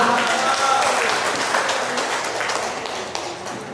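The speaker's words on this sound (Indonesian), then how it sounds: "Tepuk tangan untuk semua." Sustained applause from an audience after a presentation at a dissemination event, dense and fairly loud, continuous for several seconds and tapering slightly toward the end.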